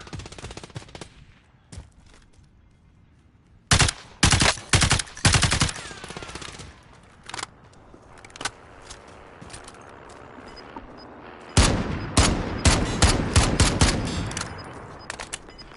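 Marksman rifle and AK fire in a battle royale shooter game: sharp close bursts of shots in clusters, a quieter stretch with occasional single shots, then a heavy rapid volley near the end.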